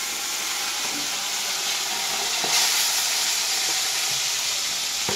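Fish frying in hot oil in a home kitchen gives off a loud, steady sizzle and hiss without a break, with a few faint clinks of utensils.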